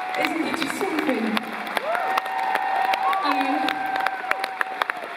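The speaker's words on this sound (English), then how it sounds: "you're clapping here" Concert audience at a live show in Helsinki claps and cheers in a broad wash, with a voice speaking over it into a microphone.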